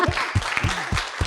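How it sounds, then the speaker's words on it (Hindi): Students clap in a class session, giving a few sharp, separate claps in a loose rhythm over a brief stretch, close and moderately loud. "तालियां बजाओ गाइस इसी बात पे"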